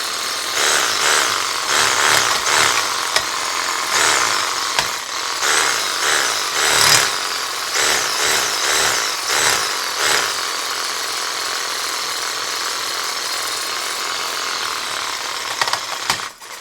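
A reciprocating saw fitted with a Vaper wire brush scrubs a metal surface, making a loud, close, harsh buzzing that runs steadily for the whole stretch and pulses as the brush bears down and eases off.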